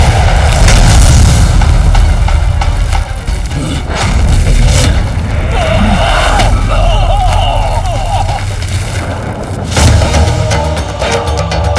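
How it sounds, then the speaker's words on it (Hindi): A loud, sustained explosion roars with deep booming rumble and crackling debris for several seconds, close and dense, with dramatic background music mixed in. "कैसा विस्फोट था?"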